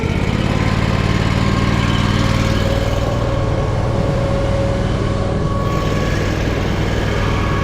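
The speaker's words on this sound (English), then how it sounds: "Idle it up a little more." A farm tractor engine raised above idle: a loud, close, continuous diesel drone with a throbbing low pulse and a steady higher whine, sustained without pause and with no voices.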